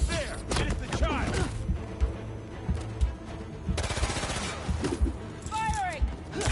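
Gunfire rattles in rapid bursts in the video game Marvel's Spider-Man 2, mixed with voices and busy in-game effects and music.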